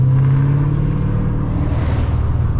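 A Ford Mustang GT engine drones loudly and close at 3 a.m. in the city, a deep continuous rumble that swells slightly in the middle of the short burst, with no talking.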